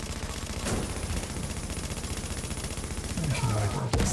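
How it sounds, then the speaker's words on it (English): Rapid explosions and gunfire in a video game form a dense, continuous crackling barrage at moderate loudness, with a brief voice and a final sharp burst near the end. "I'm kind of getting sick of the explosion sound"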